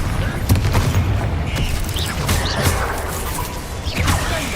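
Bombarda explosion spells in the video game Hogwarts Legacy burst amid a dense, continuous clamor of combat effects, with repeated booms, whooshes and crashes layered together and no clear gaps.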